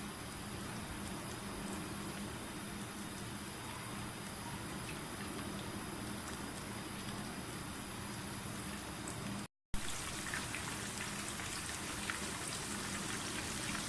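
Chicken pieces coated in semolina and gram flour fry in preheated oil over a medium flame, giving a steady, dense sizzle and crackle like rain throughout, broken by one very brief dropout near the end.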